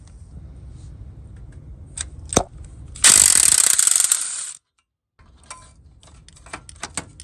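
A ratchet with a swivel works on an exhaust manifold bolt of a Chevy Suburban with an LS 4.8 engine, giving a few sharp clicks followed by a loud, rapid second-long run of pawl clicking, then scattered ticks after a pause.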